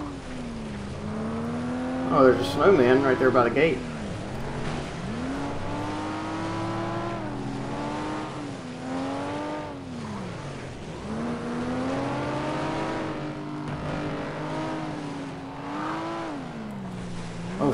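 Racing cars in the FlatOut video game roar with rising and falling engine whines as gears shift, a steady run of revving and acceleration with a brief harsher burst early on, while a player talks over it.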